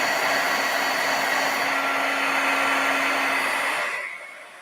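Heat embossing tool, a hair-dryer-like blower, melting embossing powder on card branches, a loud steady whooshing hum that cuts off near the end.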